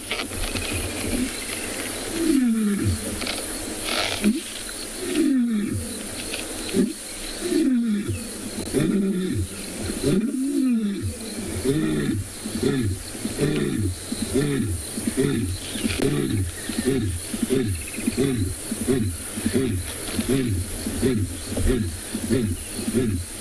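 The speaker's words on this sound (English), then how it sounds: "Other lions will listen to that alarm call." Lions give a series of deep, repeated roaring grunts in an alarm call, strong and fairly close, in rhythmic bursts out in the wild during a sunset safari, with faint talk at times.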